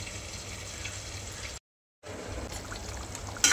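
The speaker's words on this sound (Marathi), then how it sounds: "आपण थोडासाच पाणी टाकलेलं आहे।" Water pours briefly in a soft trickle into a frying pan, breaks off for a moment of silence, then resumes, ending with a sharper clatter.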